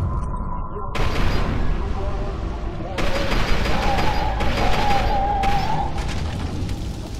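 Heavy gunfire and booming blasts in the shooter game F.E.A.R. 2: Project Origin, continuous and loud, with rattling volleys and a whining tone over the top.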